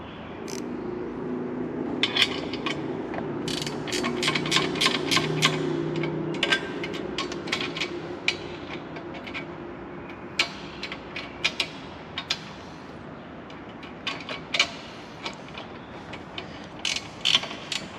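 Bolts being tightened on beach bars of a four-door Ford Bronco: a steady run of close ratchet clicks in bursts, with a low mechanical hum early on, and no voices.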